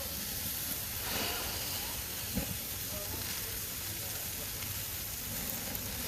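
Burger patties sear on a covered grill, giving a steady, soft sizzling hiss that holds evenly throughout, faint and at close range.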